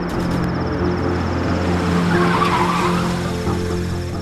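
A car skids to a halt with sustained tire squeal and road rumble over a steady engine drone, loud and close throughout, in a police stop scene.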